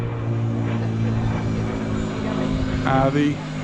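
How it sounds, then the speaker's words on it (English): A tiny propeller plane drones overhead in Puerto de Pollensa, Mallorca, its engine a loud, steady hum that fills the whole stretch and swells briefly near the end. "tiny little aeroplane going over, making a lot of noise."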